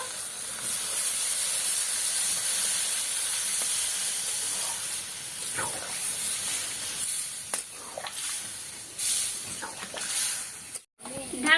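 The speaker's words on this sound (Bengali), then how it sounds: "জল দিয়ে দেব।" Water poured into a hot pan of sautéed mutton for Bengali kosha hisses and steams loudly and steadily. The sound fades and sputters toward the end, followed by a brief silence and a final burst.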